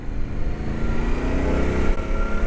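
Road traffic and engine noise ridden through on a Yamaha Tenere 700 motorcycle, a steady loud rumble with rising revs, no talking.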